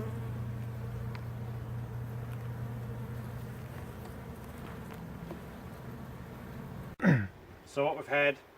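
A bee swarm hums steadily inside a garden compost bin, a low continuous drone held for about seven seconds before breaking off into a few short breathy vocal sounds near the end.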